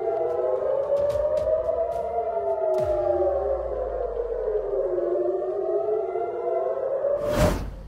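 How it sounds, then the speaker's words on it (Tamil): Air raid warning sirens sounding across Israeli towns, a long wavering wail rising and falling steadily, distant and reverberant, with a short burst of broadband noise near the end. "இஸ்ரேலிய நகரங்களில் எச்சரிக்கை சைரன்கள் ஒலித்ததாக கூறப்படுகின்றது"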